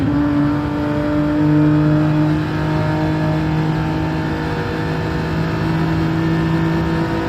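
Race car powering down the back straight, a sustained loud engine drone with steady rising harmonics as it accelerates, heard alone without talk.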